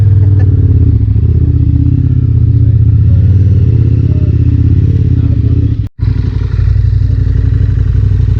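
A KTM ADV 1190 R motorcycle being ridden gives a loud, steady engine drone close by that holds throughout, with a brief dropout just before the end.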